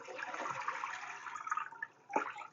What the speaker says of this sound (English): and then you drain out the water.